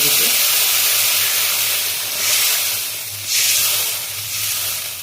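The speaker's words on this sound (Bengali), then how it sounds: "এবার আমি জল দিয়ে দিলাম" Water hitting a hot pan of fried spices for a Bengali tilapia curry with potatoes, giving a loud, steady steam hiss that surges in two bursts, with a low hum underneath and no talk.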